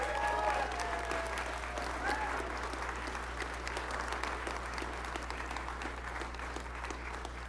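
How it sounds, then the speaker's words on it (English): Audience applause at a Tesla Giga Nevada battery and Semi factory announcement event, a steady, dense round of clapping from a large crowd lasting throughout, with a constant low hum underneath. "Round of applause for Elon."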